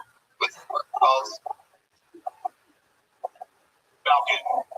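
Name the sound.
person imitating bird calls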